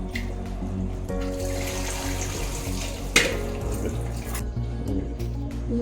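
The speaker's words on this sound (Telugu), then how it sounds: "ఇక ఇలా నీళ్ళు వేసిస్తూ ఉంటాం." Water poured into a pan of raw jackfruit curry, a continuous close trickle and splash with a low steady hum underneath and one brief clink midway.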